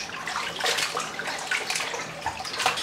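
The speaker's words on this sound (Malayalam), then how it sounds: "നന്നായിട്ട് ഒന്ന് വൃത്തിയായിട്ട് കഴുകിയിട്ട് വേണം നമുക്ക് ആ കറി വെക്കാം" Fish for a fish curry is washed under running water, a close, continuous splashing and gurgling flow with small irregular bursts.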